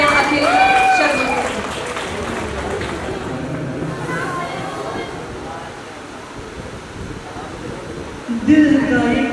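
An audience claps loudly and steadily at a school annual day as a student is called up to sing a solo, with a dense wash of applause that tapers slightly before swelling again near the end.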